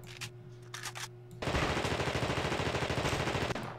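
Sustained machine gun fire in the video game The Thing bursts in abruptly after a quieter moment of faint game sounds, a loud, rapid, continuous stream of shots that keeps going to the end.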